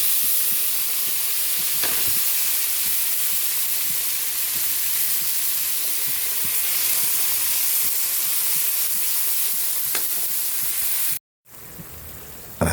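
Onions and tomatoes frying in a pan give a loud, steady sizzle and hiss with occasional stirring scrapes, cut by a short silence near the end.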